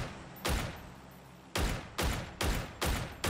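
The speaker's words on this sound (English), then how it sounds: "That's about as fast as you can shoot the gun." Six booming Dragunov marksman rifle shots in PUBG, loud and close, one early then a pause before five more fired at a steady, measured pace, each with a rolling echo tail.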